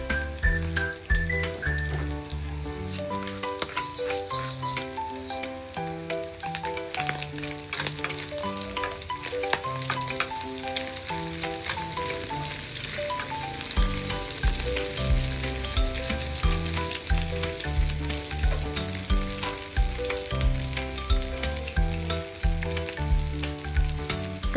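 Chicken liver and gizzard, seasoned with salt and pepper, fry in a pan with a dense, steady crackling sizzle that holds loud and unbroken throughout, with occasional stirring clinks and no voices.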